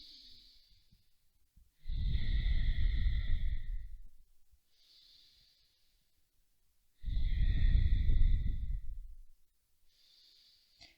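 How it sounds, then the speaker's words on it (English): Two long, controlled exhales from a pranayama breathing exercise, each a steady airy rush lasting about two seconds, close and clear, separated by quiet gaps with faint high tones in the background. "closing the mouth, we're going to try to lengthen that exhale breath."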